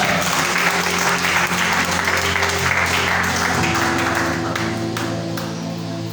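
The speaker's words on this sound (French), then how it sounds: "Est-ce que tu peux acclamer le Seigneur ce matin?" Church congregation applauding to acclaim the Lord during a French-language service, continuous dense clapping that holds steady and eases slightly near the end, with a sustained musical drone beneath.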